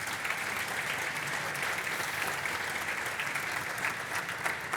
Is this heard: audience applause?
yes